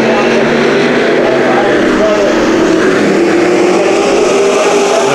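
IMCA stock cars racing on the Bakersfield dirt track, a steady loud roar of engines with a rising pitch as cars pass, under a race commentator's voice.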